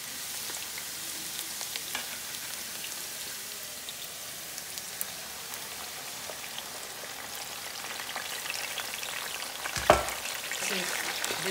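Chopped tomato and sliced onion frying in hot palm oil, a steady soft hiss and crackle with light stirring, close and fairly quiet, rising slightly near the end with one brief louder knock.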